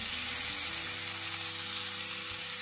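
Jackfruit and potato pieces sizzle loudly with spices in hot oil, producing a dense, unbroken frying hiss close by throughout, with a faint low hum from the stove underneath.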